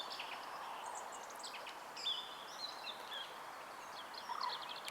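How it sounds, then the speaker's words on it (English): Several birds chirp and sing faintly at a distance beside a carp fishing lake, scattered calls overlapping against a soft outdoor hush. "If I'll be quiet, all you can hear is the birds."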